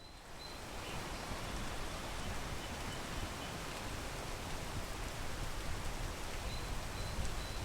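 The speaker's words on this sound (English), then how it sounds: "Need to wait for the rain to stop." Steady, even rain hiss in a video game, continuous and fairly loud throughout with no talking or other sounds breaking through.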